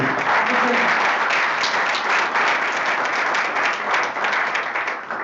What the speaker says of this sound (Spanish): Les voy a pedir otro aplauso aquí a la derecha